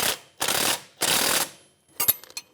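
A 21mm ratchet wrench snugs the strut bolts on a 2009-2014 Nissan Maxima, giving two long runs of close, loud ratcheting clicks, then a cluster of short sharp metallic clicks and taps.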